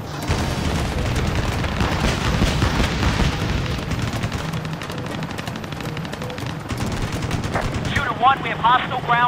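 Sustained heavy machine gun fire and booming explosions in Ace Combat Assault Horizon form a dense, continuous battlefield roar, with voices and radio-style chatter mixed in near the end.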